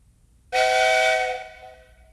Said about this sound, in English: Did you get your whistle fixed, Mr. C?